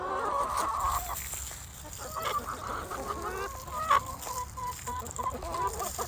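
Several hens cluck and squawk fussily at close range, overlapping in an uneven chorus with a louder sharp call partway through.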